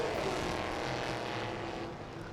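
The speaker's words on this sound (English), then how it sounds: "especially with these monster V8s rumbling past pit row," Monster V8 race cars at a 2019 TSS race meeting thunder past the pit row and grandstand in one continuous, loud, dense roar that fades slightly toward the end, with no talking.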